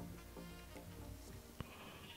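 Minecraft sheep bleating in a SkyBlock game, a faint bleat under a steady blanket of background noise and game sounds, with a short click near the end.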